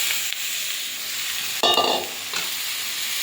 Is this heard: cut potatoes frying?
yes